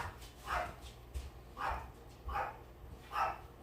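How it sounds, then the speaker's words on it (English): Several dogs bark in a regular series of four or five distinct barks, somewhat distant and moderately loud, with no talking over them. "I don't know what my dogs are barking at."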